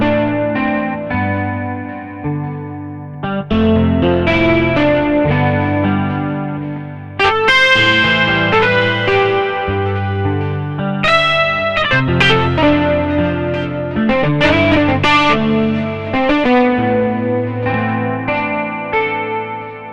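A distorted electric guitar patch on a Yamaha Montage keyboard plays a lead line of bent, sustained notes and gritty chords over about twenty seconds, loud and upfront with effects, no speech.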